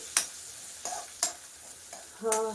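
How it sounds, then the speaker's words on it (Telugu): Onions frying in a pan with ginger-garlic paste, soft sizzling under a series of sharp spatula scrapes and taps against the pan, about four or five strikes spaced unevenly, close and fairly quiet. "ఆనియన్స్ బాగా ఫ్రై అవుతుంది"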